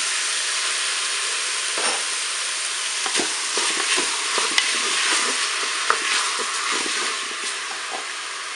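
Tomatoes sizzling in a hot pan for a beef and courgette lasagna, a steady loud frying hiss with occasional stirring scrapes and crackles.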